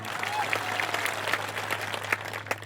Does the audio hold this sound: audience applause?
yes